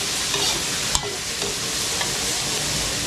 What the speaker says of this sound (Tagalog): Nilalagay na natin yung ating kamatis, sabay natin sa gisa to.